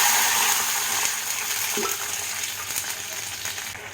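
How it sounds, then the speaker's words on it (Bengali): Water poured into hot oil tempered with five-spice and two dried red chillies, a loud burst of crackling sizzle that eases into a steady bubbling hiss, close by with no voices. "আর চিরা দুটো শুকনো লঙ্কা ফোড়নটার গন্ধ ছাড়লে আমি তাতে দিয়ে দেবো জল আধ কাপ পরিমাণ"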